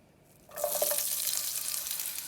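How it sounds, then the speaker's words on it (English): Onions hit hot oil in a pan and start sauteing for a Cuban shredded beef dish, a quiet start giving way to a loud, steady crackling sizzle that fills the rest of the moment. "quickly saute our fresh ingredients. So I'm going to take my onions here"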